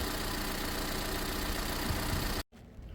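A 2020 Toyota C-HR engine idles steadily right after an oil change, loud and close, then cuts out abruptly near the end, leaving only quiet room noise. No one speaks.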